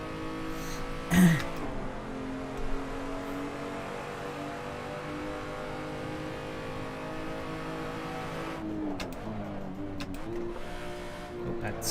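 Race car engine in the Assetto Corsa racing game, revving under load with steady harmonic drone, a brief sharp burst early, then falling and rising pitch as it downshifts near the end; voices talk faintly underneath.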